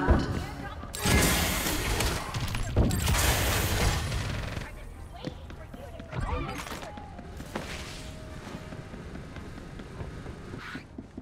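Gunfire bursts from the battle-royale video game Farlight 84, dense, loud volleys in the first few seconds giving way to sparser, scattered shots mixed with in-game voices and effects.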